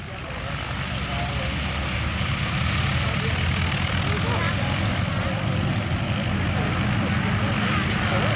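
Several Harvard Mark IV and Mark II propeller trainers run up together for a formation takeoff at an airshow, a loud, steady radial-engine drone with propeller roar swelling slightly and holding throughout.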